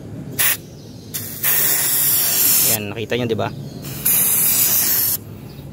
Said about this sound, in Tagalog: Okay guys, mag-i-spray na tayo. Ito, shake muna natin. Spray natin dito.